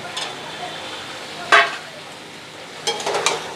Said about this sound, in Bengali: এই দেখো তেল ছাড়তে শুরু করেছে, আবার একটু আমি ভালো করে নেড়ে দেবো।